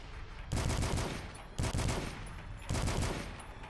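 Bursts of rapid gunfire from the first-person shooter DUSK, three sustained volleys separated by short pauses, dense and loud with no talking.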